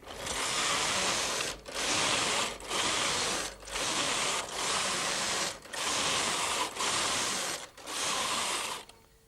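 A Brother KH 950i knitting machine carriage knits a multicolour pattern, giving a loud rasping mechanical ratchet sweep that repeats in about eight even passes, each separated by a brief pause, with no voices.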